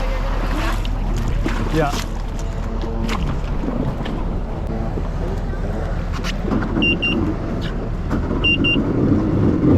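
A jet ski engine runs and revs on open water, failing to reach full throttle, with a loud, steady droning roar and wind noise throughout while a voice speaks briefly over it.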